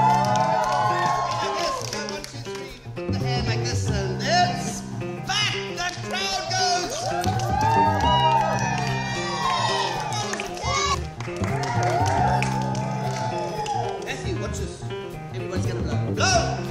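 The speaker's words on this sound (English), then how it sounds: "The crowd goes crazy!" Children and adults at a family entertainer's magic show cheer and shout excitedly in a lively, overlapping burst that rises and falls, with a voice talking over the noise.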